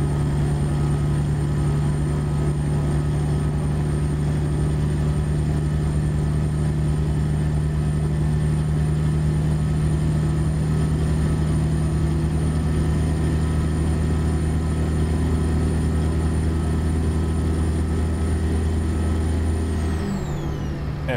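A truck engine with a cam idles steadily in the video game American Truck Simulator, a loud, constant low drone with a lumpy, rough pulse that drops off abruptly near the end.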